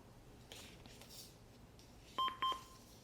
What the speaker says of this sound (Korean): 이거 신호 인식했더니 알버트가 지금 삐삐 소리를 냈고